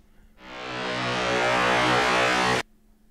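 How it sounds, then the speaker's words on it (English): Reversed drone tone from a heavy guitar production, a dense noisy swell that rises gradually in loudness over about two seconds and then cuts off abruptly, heard loud and alone. "I reversed the drone tone."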